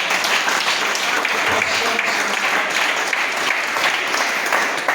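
A church congregation applauding during a worship service, a dense, sustained wash of clapping from many hands that stays loud and even throughout, with voices faintly mixed in.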